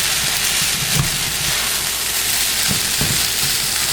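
Chicken fried rice with egg being stir-fried in a pan: a steady, loud sizzle with occasional scraping thumps of a spatula mixing the rice, close up and continuous.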